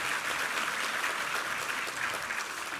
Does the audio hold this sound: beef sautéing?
no